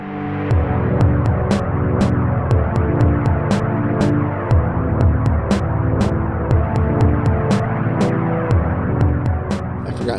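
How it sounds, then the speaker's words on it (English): A synth track plays steadily, layered tones and a low throbbing pulse mixed with a hiss of white noise and regular sharp clicks across the whole stretch. "This one has some cool synth with some white noise."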